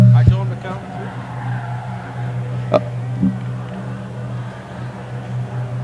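A Mustang race car roars down the back straightaway of Delaware Speedway during a King of the Hill race, its engine a steady loud drone with a few sharp transients, under an announcer's commentary.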